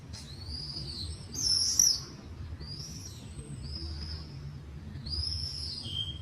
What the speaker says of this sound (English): You can probably hear in the camera all the different bird sounds, but they're literally just flying over our heads